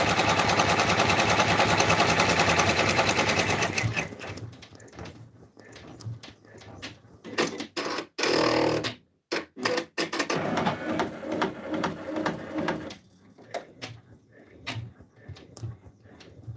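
An in-the-hoop embroidery machine stitches a satin stitch around the feet of a raccoon stuffed toy: a fast, loud mechanical rattle, then broken bursts and pauses of stitching, with people talking at times.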